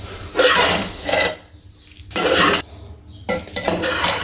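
Chicken samosa filling mixed with chopped coriander, a spoon scraping and stirring in a pan in three or four loud bursts separated by short pauses, close up with no voices.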